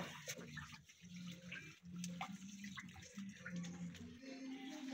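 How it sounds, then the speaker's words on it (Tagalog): Water running from an outdoor tap at a household water source as water is fetched, a continuous splashing flow with some faint background voices, close and steady. "Mag-iigib po tayo dito na naman sa source ng tubig namin."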